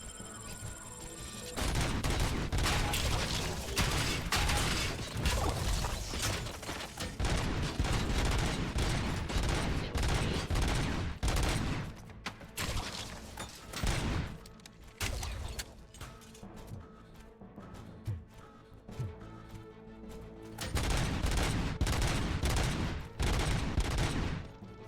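Gunfire in the video game RoboCop: Rogue City: loud, dense bursts of rapid shots and automatic fire, with close cracking and crashing impacts, easing off briefly in the middle before heavy firing returns.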